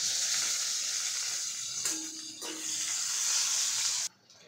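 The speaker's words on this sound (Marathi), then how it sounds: "भोपळा पण आपल्याला पलटून घ्यायचा आहे।" Pumpkin pieces frying in hot oil while a fish curry is being made, a steady close sizzle with a short scraping stir midway before the sizzle drops away at the end.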